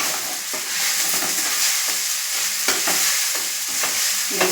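Sabudana (sago) upma with curry leaves sizzles in a pan while it is stirred, a constant frying hiss with repeated scraping and tapping strokes, close by.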